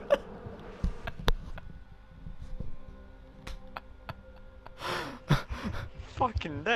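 A buzzing swarm of bees pours out of a beehive that was shot in Far Cry 4, droning faintly under gasps and voices, then growing louder toward the end.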